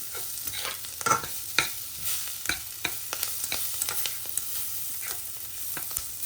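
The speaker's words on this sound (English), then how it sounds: "We're just going to fry this up." Spices fry in a pan for butternut squash soup, a steady close sizzle broken by scattered crackles and stirring scrapes, with no talking.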